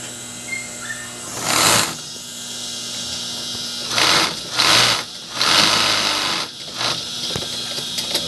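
A piping sewing machine stitches in short bursts, one at first and then several close together, over a steady mechanical hum, heard nearby with no talking.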